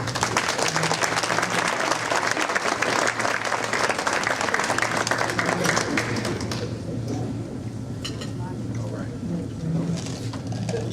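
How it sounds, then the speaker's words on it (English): Dense, steady clapping from an audience at a Juneteenth program in Arlington fills most of the clip, then thins out toward the end as a few scattered claps linger. "Give him a round of applause."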